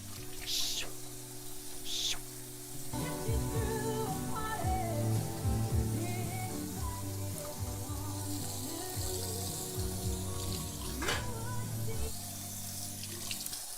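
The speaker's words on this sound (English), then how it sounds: "rinse off your spoon" A spoon is rinsed under a running kitchen tap, a steady splash of water with clinks and soft handling noises throughout, close and moderately loud, with no talking.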